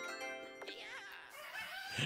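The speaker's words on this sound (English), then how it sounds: "I never realized the freaking rooster crows right there" A cartoon rooster crows once, a short rising and falling call over steady game music, from the Mario Party Superstars video game.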